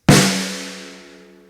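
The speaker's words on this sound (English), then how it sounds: "Have you ever gone to hit your snare drum and it sounds something like this?" A single hit on a badly tuned snare drum, a sharp crack followed by a long, ringing tonal overtone that slowly decays, heard close and alone.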